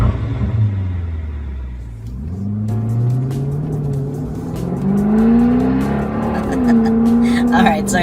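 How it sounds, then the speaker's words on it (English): A 2017 Jaguar F-Type SVR supercar drives along, its deep engine note rising and falling through gear changes as it accelerates, heard from inside the cabin with a voice talking over it. "here we are inside the 2017 Jaguar F-Type SVR"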